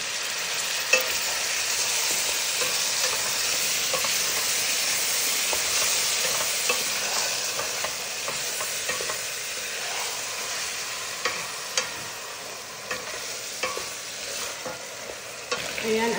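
Chicken and tomato frying together in a pan for Filipino-style chicken kabsa, a steady broad sizzle throughout with light stirring clicks and scrapes, close and fairly loud, no one talking.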